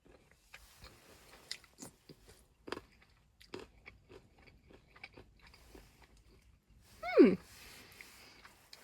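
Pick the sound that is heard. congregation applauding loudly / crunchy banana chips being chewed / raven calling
crunchy banana chips being chewed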